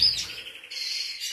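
A male agate canary chirps loudly and close, a continuous bright twittering run with a brief dip in the middle.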